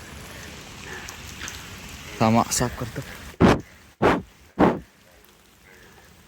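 Rain falls over a flooded home garden as a steady hiss beneath a short burst of speech, followed by three loud close swipes or rubs in succession.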